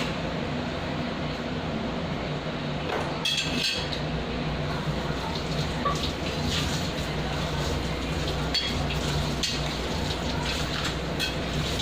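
Tap water runs steadily for washing, a continuous broadband rushing hiss with a few brief splashier surges and faint voices in the background.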